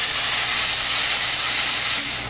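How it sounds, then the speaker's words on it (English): Therma Steem #10 steam cleaner with floor attachment emits a loud, steady, close hiss of steam throughout, tapering slightly at the end. "which will allow you to steam the floors."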